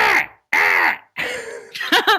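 A man imitates bird calls with his voice, giving four loud, harsh, crow-like squawks separated by short pauses, the last ones breaking into quick warbling cries.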